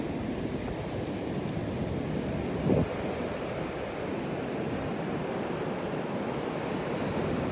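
Atlantic Ocean waves wash onto a beach in a continuous broadband surf roar, steady and moderately loud with some wind buffeting, no voices present.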